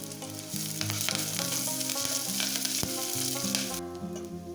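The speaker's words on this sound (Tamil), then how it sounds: "கூடவே கொஞ்சமாக கருவேப்பிலை சேர்த்துட்டு நல்லா கலந்து விட்டு இது நமக்கு நல்லா வதங்கி வரட்டும்" Onions, green chillies and curry leaves sauté in a pan for a crab curry, giving a steady sizzle with a short stirring scrape, all under continuous background music.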